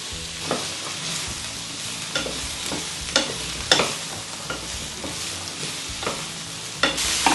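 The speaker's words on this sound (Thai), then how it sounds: "น้ำมันเริ่มร้อนเราก็ใส่ซาวมอน ไปเลยที่เราคลุกแป้งไว้นิดหนึ่งนะคะ" Flour-dusted salmon frying in hot oil gives a steady, close sizzle, punctuated every second or so by sharper spits and the scrape of a utensil in the pan, with no speech.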